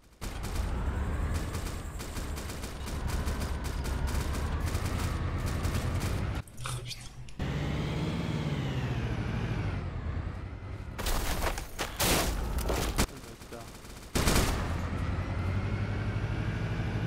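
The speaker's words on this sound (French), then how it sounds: "j'en ai un au cul qui me tire à la MK48 là" MK48 machine gun firing in a war video game with armoured vehicles, a dense, continuous roar of rapid gunfire and engine noise, loud and sustained with brief breaks, under a man's speech.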